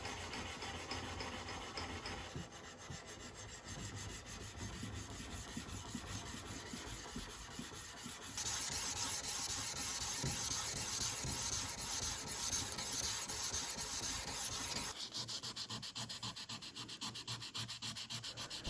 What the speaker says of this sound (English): And now it's time to sand the blade. I'm using 400 grit sandpaper to pick up where I left off polishing on the grinder.